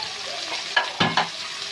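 Finely chopped onions and green chillies frying in a pan for a white bean curry, a steady sizzle with a few clinking stirs of a utensil against the pan, close and moderately loud.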